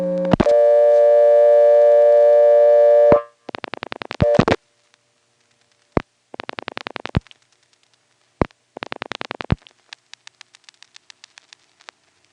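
Exchange equipment from a 1977 Step-NX1 system in Siler City, North Carolina, answers a call to a vacant number with a steady harmonic tone lasting about three seconds, followed by several bursts of rapid mechanical clicking separated by short silences.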